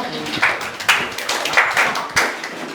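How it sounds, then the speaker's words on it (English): A classroom claps for a student during a Class 10 mathematics lesson on circle geometry: a few sharp, scattered bursts of hand claps in quick succession, close and moderately loud, with no talking. "Clap for him, please."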